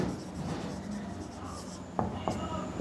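A pen scratches across paper while a maths problem is worked out, a quiet, steady rubbing stroke that carries on throughout, with a couple of brief taps near the end and faint background noise.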